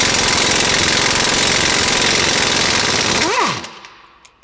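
Impact tool driving a T60 Torx bit on a Shelby GT350R brake caliper bolt, loud rapid hammering rattle for about three seconds, then a quick winding-down whine as it stops.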